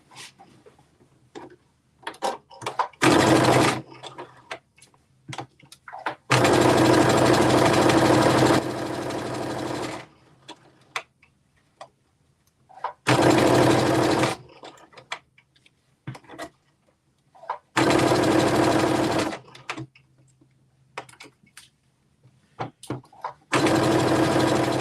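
A sewing machine stitches fabric in several loud sustained runs of a few seconds each, separated by quiet pauses filled with small clicks and handling noises.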